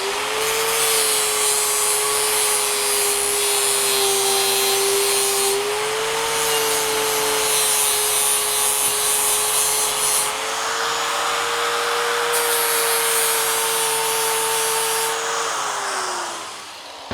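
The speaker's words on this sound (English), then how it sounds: "The whole point of this tool is so that you can see the weld as you're grinding." An angle grinder with a see-through abrasive disc grinds down a sloppy weld during auto restoration, a loud steady high whine with gritty scraping that shifts pitch slightly as pressure changes, running continuously before spinning down.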